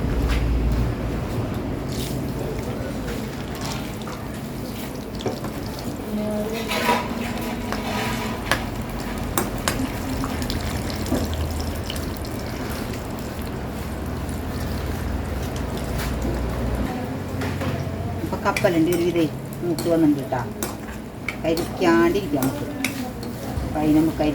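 Raw peanuts being stirred and dry-roasted in a pan at home, a steady scraping and rattling of nuts against metal with light knocks of the utensil, continuous and close throughout.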